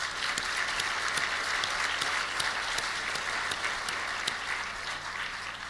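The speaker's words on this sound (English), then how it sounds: "Give him another round of applause." Conference audience applauding for a disabled Vietnam veteran, a steady, dense clapping that holds evenly for several seconds and tapers slightly at the end.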